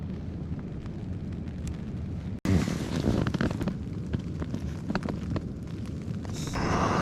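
Alpkit Brukit camping stove with a Helm Compact burner being lit outdoors in strong wind, a steady roaring rush with buffeting wind noise, a brief cutout, then louder continuous burner roar close to the microphone.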